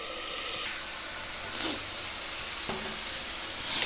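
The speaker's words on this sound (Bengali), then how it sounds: "এটাকে যত ভালো করে ভাজা হবে, কষানো হবে, ততই কিন্তু আলু পোস্তটা খেতে টেস্ট হবে" Potatoes for aloo posto sizzle loudly in a pan with a hissing, steamy fry, while a few scraping stirs cut through the steady crackle.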